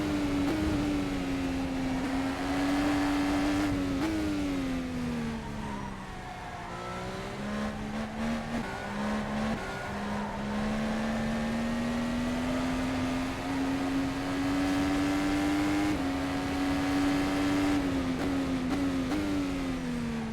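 A race car engine in a racing game drones continuously at high revs, its pitch rising and dipping as the throttle is feathered through corners, loud and steady with no talk.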